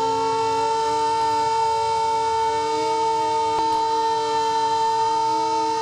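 A civil defense siren sounded for a minute of silence at a memorial ceremony holds a steady, sustained wail, loud and continuous, with no voices.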